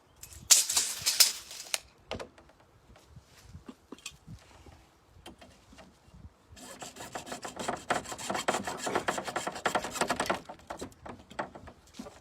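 Material is cut to length for a hoop house, with close, rough rasping strokes in two bursts, a short one at the start and a longer, steady run later, separated by quieter scraping and handling sounds.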